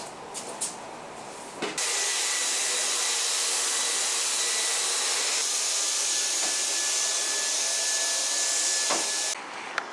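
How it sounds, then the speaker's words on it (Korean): A household vacuum cleaner runs steadily at close range in a home during a morning cleaning session, switching on with a sudden rise to a loud, continuous whooshing roar that holds for several seconds before cutting off near the end. "이제 아침에 돼가지고 청소기 돌리려고요."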